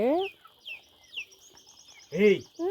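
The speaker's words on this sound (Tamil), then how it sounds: "சாப்பாட்டு இவ்வளோ அடிமையாயிட்டாங்களா அந்த கோழிங்க வாத்தெல்லாம்" Chickens clucking and calling around a pot of hot rice porridge outdoors in the sun, with a few loud, close clucks and squawks and fainter chirps between them.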